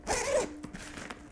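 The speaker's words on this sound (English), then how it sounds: "Again, those zippers. Can you hear that on the microphone?" A quick backpack zipper pull rasps loudly up close, followed by a few small clicks and rustles.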